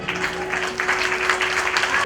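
Applause from a seated audience at a Shrimad Bhagwat Katha religious discourse: steady, dense clapping that carries evenly for about two seconds over a faint constant hum.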